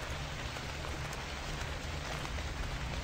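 Steady rain in the survival game Shadows of Kurgansk, a dense, even hiss of drops on surfaces that holds at a constant level for the full stretch with no voices over it.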